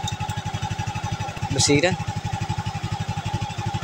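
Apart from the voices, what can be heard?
Suzuki Raider J motorcycle engine running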